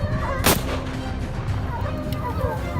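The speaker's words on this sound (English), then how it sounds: "The sound of gunfire echoed relentlessly." A sharp, loud gunshot bursts out during a wild boar hunt on farmland, followed by a rolling echo and faint outdoor background noise.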